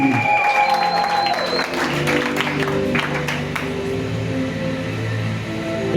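A church congregation keeps up steady applause and crowd noise throughout, with sustained tones and singing voices over it.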